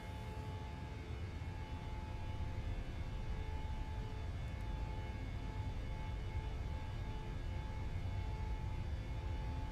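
Boeing 737-600 jet engines spool up for takeoff, a steady broad roar with a faint tonal whine that holds at a constant level and swells only slightly toward the end, with no talk.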